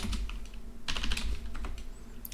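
Typing on a computer keyboard while writing C++ code, a quick run of close, crisp key clicks with a louder cluster in the middle.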